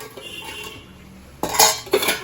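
Kitchen dishes, pots and cutlery piled together clatter and clink in two close, sharp bursts near the end, after a stretch of quiet room noise.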